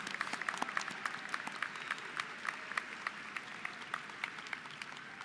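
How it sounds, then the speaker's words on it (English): Graduation crowd applauding for high school graduates, a broad, continuous wash of many hands clapping, somewhat distant and soft, holding an even level throughout. "LHS graduates, let's give them all a big round of applause."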